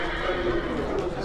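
A horse whinnies close by at a busy livestock market, with hoof clatter and people talking over it.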